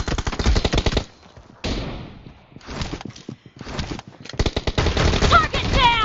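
Rapid bursts of M1014 shotgun fire in the PUBG Mobile game crack close and loud in clustered volleys, with short pauses between bursts and people calling out over the shooting.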